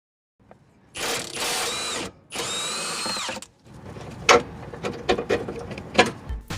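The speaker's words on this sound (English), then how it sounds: "using a 19mm socket to loosen the bolt" A power tool with a 19mm socket whirs in two sustained bursts loosening a bolt on a 2009 Mitsubishi Galant lower control arm, followed by clanks and rattles of tools and metal parts, close and loud, without speech.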